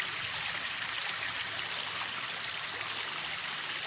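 A small waterfall stream in Kentucky flows steadily with a constant soft hiss and trickle, heard close and alone without voices.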